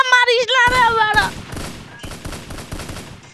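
Rapid gunfire bursts from the Free Fire mobile game, repeated close cracks in quick strings after an opening stretch of excited shouting, with a voice breaking in between shots.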